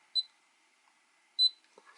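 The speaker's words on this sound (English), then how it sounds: "you short press then long press, and you get a beep" Two short, high electronic beeps about a second apart from an ImmersionRC PowerPlay DVR powering on, crisp and close, followed by a faint click.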